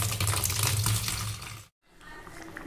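Chicken is rinsed under a kitchen tap, water rushing loudly and steadily, then cutting off abruptly, leaving quieter dripping and handling sounds afterward.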